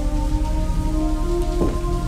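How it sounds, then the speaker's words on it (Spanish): Rain in the Toy Story.exe remake video game falls as a loud, continuous downpour with dense patter, low rumbling underneath and a steady tonal hum from the game. "¡Mira lo que es esa lluvia, por favor!"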